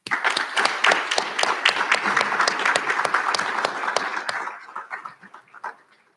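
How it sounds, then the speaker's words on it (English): A graduation recognition ceremony audience breaks into crisp, loud applause, many hands clapping at once, then thins out and fades away toward the end. "So please join me in applauding them once again."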